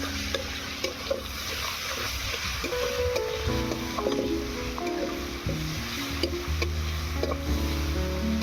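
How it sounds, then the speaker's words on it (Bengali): Chopped onion and garlic paste fry in a pan for a curry, giving a steady close sizzle with the scrape and shuffle of stirring throughout. "পেঁয়াজ রসুনটা লাল লাল করে ভাজা হয়ে গিয়েছে।"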